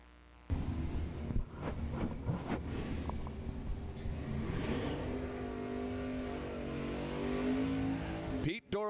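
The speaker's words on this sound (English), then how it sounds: "Nick Offerman in that Nova and Pete in that Camaro." A drag-racing Chevrolet Nova and Camaro launch down the strip at the Rocky Mountain Nationals with a sudden loud engine roar, then rising revving through the gears as the cars pull away, with a commentator talking over them.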